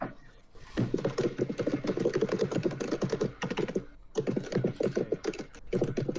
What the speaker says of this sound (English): Rapid typing.